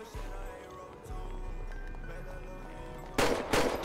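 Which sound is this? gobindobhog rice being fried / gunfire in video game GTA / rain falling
gunfire in video game GTA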